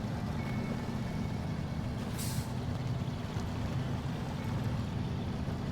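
International Fleetstar truck with all-wheel drive and upgraded tyres labouring in the Snowrunner game, a low steady engine drone throughout with a brief hiss of air midway, no voices.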